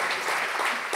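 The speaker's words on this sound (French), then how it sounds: "Vous pouvez applaudir" Brief burst of audience applause at a French business conference session, a dense even patter of many hands heard close for about a second without voices.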